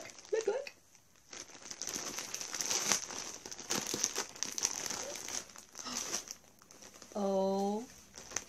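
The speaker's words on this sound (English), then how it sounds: "Excuse the crinkling." Plastic wrapping on a parcel crinkles and rustles in irregular bursts at close range while people talk over it.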